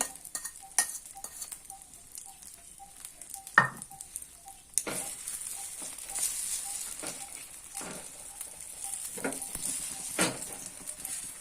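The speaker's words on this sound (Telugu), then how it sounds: "మనం మిక్స్ చేసుకున్న ఓల్ట్ ఆమ్లెట్ వేసేసుకుందాం." Oats omelette batter hits a hot pan with a soft thud partway through, and a steady sizzle rises and continues afterward. Occasional spatula taps and scrapes come through while the batter is spread, and no one talks.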